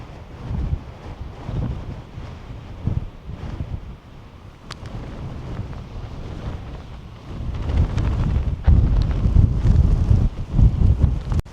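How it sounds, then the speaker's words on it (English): Strong wind on Antelope Island at Split Rock Bay buffets the microphone in loud, rumbling gusts, easing briefly in the middle before building to a heavier roar near the end. "it's a windy one"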